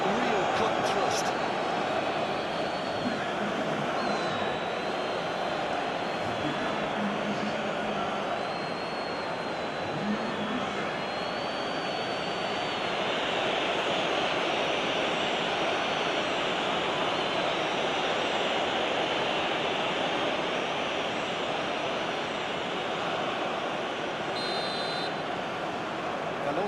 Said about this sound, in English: I think you can hear the approval from the support all around the stadium